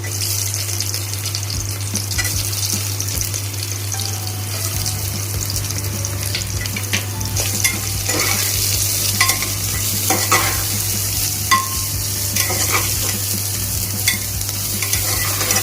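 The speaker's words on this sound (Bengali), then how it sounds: "সয়াবিনগুলো হালকা করে ভেজে নেব, বেশি ভাজবো না, টাইট হয়ে যাবে।" Soybean chunks fry with onions in a pan, a steady close sizzle broken by repeated stirring scrapes and clinks for the whole stretch with no talking.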